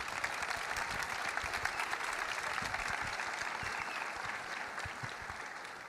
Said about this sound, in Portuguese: Vamos ficar em pé e vamos aplaudir ao Senhor pela vida de Thomas Hurd.